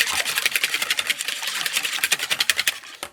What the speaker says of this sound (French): Donc là je mets les œufs, je vais les fouetter rapidement.